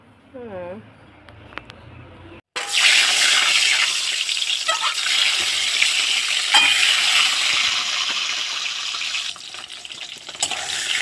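A spatula stirring egg curry in a pan, made without onion or spices: a loud, continuous sizzle and scraping close by after a brief spoken bit at the start, with occasional knocks against the pan.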